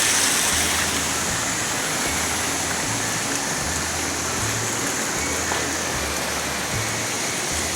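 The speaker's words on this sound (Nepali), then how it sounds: "पानी चाहिँ यस्तो हिमालको पानी झरना आउँछ यहाँबाट" A Himalayan waterfall sends out a steady, dense hiss of falling water that holds at the same level throughout, with faint low rumbling beneath it.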